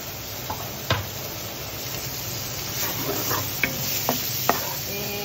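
Onions sauté in melted butter in a pan while a chicken buttermilk dish is being cooked. A steady, soft sizzle fills the background, and a few light clinks of a utensil stirring cut through it.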